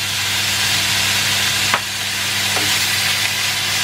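Beef pieces seasoned with salt and pepper fry loudly in a pan, a dense, constant sizzle with a steady hum underneath and a couple of brief stirring scrapes.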